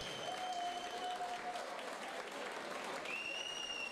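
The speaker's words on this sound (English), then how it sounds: "So round of applause for Matty, please." Audience at a bare knuckle boxing promotion event applauds steadily, a dense, continuous clapping wash that stays even throughout, with faint tonal sounds briefly above it.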